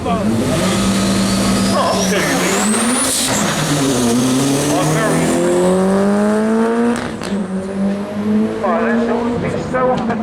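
Race car at the Brighton Speed Trials, running 600 brake horsepower without nitro, roars loudly and climbs through rising revs with a tire squeal, heard over a crowd and a voice talking close by.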